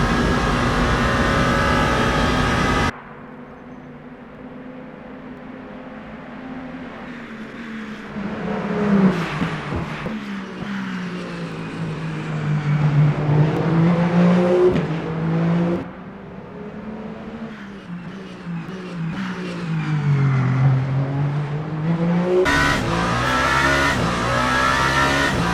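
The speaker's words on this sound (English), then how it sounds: "That is a Ferrari GT3, and here's the other Ferrari GT3." Ferrari GT3 race cars in Le Mans Ultimate howl past one after another, engines rising and falling in pitch through gear changes, sometimes loud and near, sometimes fading, with no talking.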